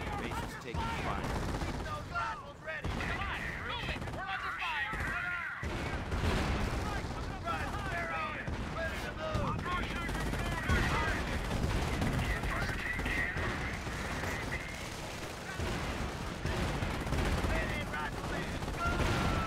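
Sustained gunfire and explosions rage across a base in the real-time strategy game Company of Heroes, dense bursts and impacts continuing loudly throughout with game voice lines mixed in.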